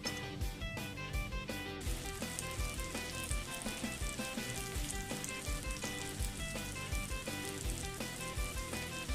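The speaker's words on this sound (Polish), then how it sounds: "teraz obtoczę ją w bułce tartej i będę smażyła na oleju rzepakowym" Breaded fish frying in rapeseed oil, a steady, close sizzle and crackle that continues throughout at a low level.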